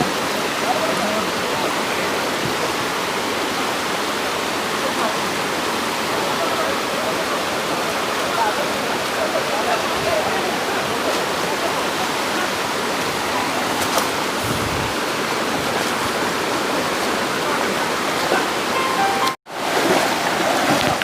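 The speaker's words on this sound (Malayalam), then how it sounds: "അക്ഷരാർത്ഥത്തിൽ ഒരു പാടം മട വീഴുന്ന കാഴ്ചയാണിത്." Water rushes loudly and continuously through a breached bund of a paddy field, a dense, steady roar like a small waterfall, heard close with no break until a brief cut near the end.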